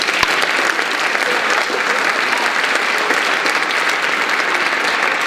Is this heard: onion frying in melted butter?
no